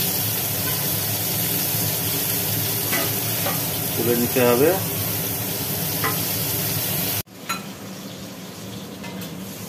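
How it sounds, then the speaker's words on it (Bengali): Pointed gourd (potol) slices sizzle steadily in hot oil in a pan while being stirred, with scraping strokes mid-way and a brief voice speaking; the frying noise then drops abruptly to a quieter hiss. "তা পটলগুলো ভাজা হোক, পটলগুলো ভেজে"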